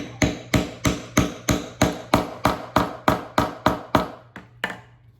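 A hammer strikes a punch through leather in a steady series of about fifteen sharp, close, evenly spaced blows, each ringing briefly before the next, with no talking.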